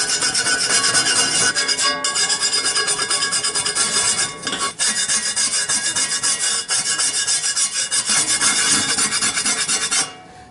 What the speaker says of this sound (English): scrape some of that rust off of there